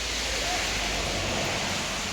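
Steady, even rain hiss fills the air without pause, fairly close and unbroken.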